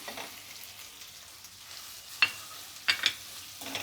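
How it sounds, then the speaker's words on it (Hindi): Capsicum sautés over a high flame, a soft continuous sizzle with a few sharp spatula scrapes and clinks against the pan near the end. "शिमला मिर्ची को भी इसी तरह से हम हाई फ्लेम पे सौटे करेंगे"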